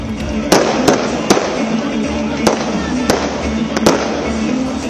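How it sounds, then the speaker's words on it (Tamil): Fireworks bursting at a New Year's midnight celebration, sharp cracks and bangs popping every second or so over a continuous crackling, rumbling din, with some crowd voices mixed in. "நள்ளிரவு 12 மணிக்கு வான வேடிக்கைகளுடன் மக்கள் புத்தாண்டை வரவேற்றனர்"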